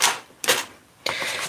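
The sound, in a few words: die cutting machine running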